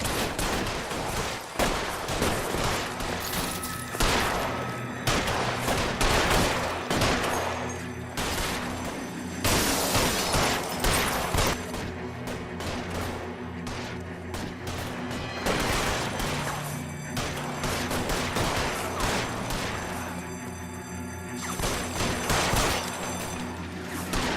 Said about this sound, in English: Another shootout, guys.